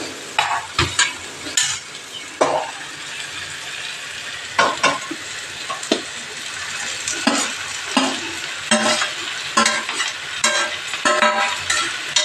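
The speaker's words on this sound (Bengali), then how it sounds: "এই দেখো মশলাগুলো ভাজা ভাজা হয়ে গেছে। এখন খাকসাগুলো দিয়ে দিবে।" Spices and khaksa (spiny gourd) frying in oil in a home kitchen pan, a steady close sizzle broken by repeated scraping knocks of a spatula stirring, with no talk.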